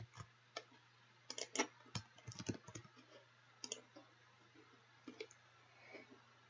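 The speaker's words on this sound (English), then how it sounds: "You can do this by double-clicking on the file name." A computer mouse clicked repeatedly while working with image files, faint and close, with scattered sharp clicks in irregular bursts, some paired, over a steady low electrical hum and quiet room noise.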